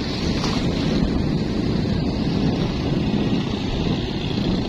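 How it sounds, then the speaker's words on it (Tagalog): Sea waves washing onto a beach in Calatagan with fishing boats offshore: a steady, moderately loud surf roar mixed with wind buffeting the microphone, continuous and without talk. "Ang ganda ng alon."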